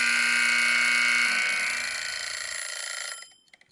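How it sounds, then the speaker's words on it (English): A timer buzzer blares as a harsh, steady electronic tone, loud and close, sustained for about three seconds before it is switched off and cuts out to near silence. "I'm turning my buzzer off with 1 minute left to go."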